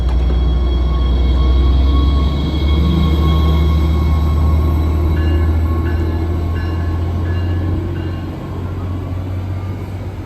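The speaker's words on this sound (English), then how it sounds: "I love the Stadler GTW trains that run on this line" A Stadler GTW train pulls into Pennsauken Transit Center with a loud, steady low rumble and a faint high whine, with sustained tonal hums and a few short repeating beeps near the end.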